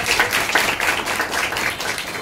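An audience claps steadily through a gratitude ceremony held by a social and educational organization, a dense, fairly loud patter of many hands without pause.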